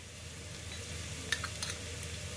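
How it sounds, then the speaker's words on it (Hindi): Cashew nuts sautéing in oil in a pan for mint rice: a soft, steady sizzle with a few light scrapes and taps of a spoon against the pan, fairly quiet, with no talking. "अब हम इसमें कुछ कैश्यू नट्स डाल दे रहे हैं, सौते करेंगे"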